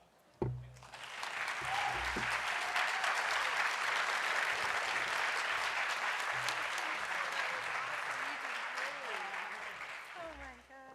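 Audience at a college spring convocation breaks into sustained applause after a student's speech, swelling quickly to a dense, even roar of clapping that tapers off near the end, with a voice briefly heard at the edges.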